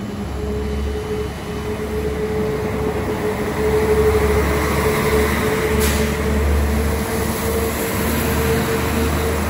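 A West Coast Main Line train from Manchester Piccadilly to London Euston sits at Crewe station, giving off a steady low engine and air-conditioning hum with a faint high whine and no talking.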